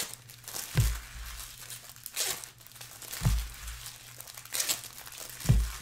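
Bowman's Best trading card packs being torn open during a full case break, plastic wrappers crinkling and crunching in several bursts with low thumps from handling, close and fairly quiet, no talking.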